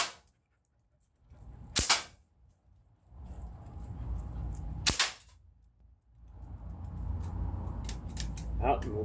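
A Sig Sauer MCX gen 2 airgun firing pellets: sharp close pops with pauses of a few seconds between them, separated by stretches of low mechanical whirring and rattling.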